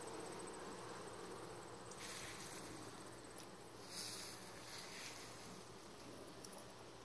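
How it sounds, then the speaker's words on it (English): Honey bees buzzing around a beehive beside a clump of asters, a faint steady hum of many insects outdoors with occasional closer passes. "This is the beehive that's right next to the asters."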